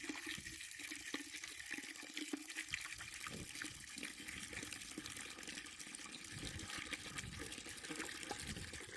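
Water gushing steadily from a newly installed outdoor winter faucet in a backyard, a continuous close rushing splash with no pauses and no voices.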